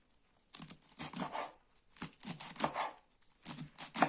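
Dried evelek (Rumex) leaves are chopped with a knife, giving quiet crisp crinkling and crunching bursts in three or four separate clusters, close up with no talk.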